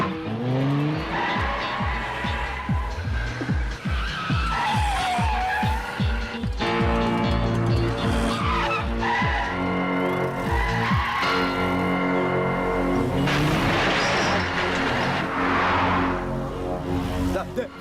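A car speeds hard through a movie chase scene, engine roaring with tires squealing and skidding, laid under a dense, loud music score and voices talking throughout.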